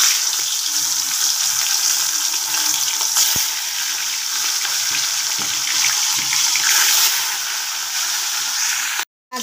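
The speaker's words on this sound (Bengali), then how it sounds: "এরপর মাছটা ভেজে নেব।" Fish pieces dropped into smoking-hot oil for a mustard fish curry, sizzling loudly and steadily up close with faint stirring clatters, before cutting off abruptly near the end.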